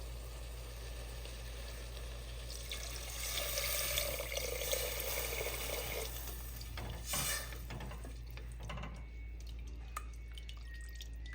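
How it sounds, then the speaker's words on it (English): Water is poured into a pot of rice for zeera rice, a soft, steady trickle and splash over a low background hum, ending in a few faint drips. "Now see the amount of water that I'm going to add."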